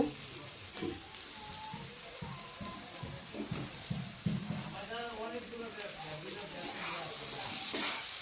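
Onions softened with salt, then tomatoes added, frying in a pan with steady sizzle and occasional stirring scrapes, a person speaking over the cooking throughout.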